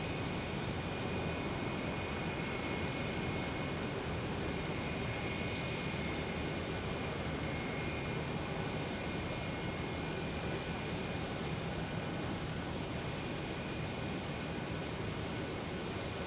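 An airliner lands at Phoenix Sky Harbor airport, its steady jet roar holding at a constant level the whole time, with no talk over it.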